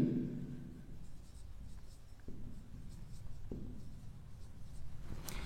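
Pen writing an amount by hand on paper, a steady scratchy scribble of strokes with brief pauses, close and fairly quiet with no voices.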